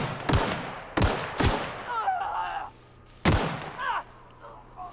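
Gunfire in The Outer Worlds: four loud, sharp gunshots in an irregular rhythm, each with a brief ringing tail, interspersed with whooshing and whining effects and a low background hum.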